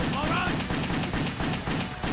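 Rapid automatic gunfire from the Xbox 360 shooter Wet, a dense, loud stream of shots over game music, with a voice talking over it.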